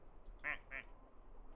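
Two quick duck quacks, the first louder, faint and roomy against a low background hum.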